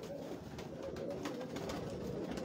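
Tiger pigeons, a dove breed, coo steadily through a noisy loft, their low murmuring rolling on without pause and blending with background rustle.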